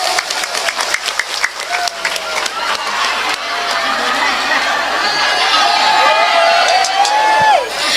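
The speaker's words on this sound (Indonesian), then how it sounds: "Tepuk tangan dhisik." An audience at a Javanese religious study gathering breaks into sustained applause mixed with cheering and whoops, steady and crowd-wide throughout, with high voices rising over the clapping.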